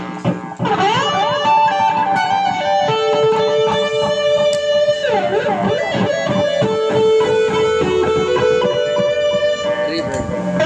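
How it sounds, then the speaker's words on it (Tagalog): Electric guitar played through a delay effect after a Jcraft LTX Drive distortion pedal, with sustained notes and gliding pitch bends that repeat and trail, loud and continuous with no talking. "add natin ang delay."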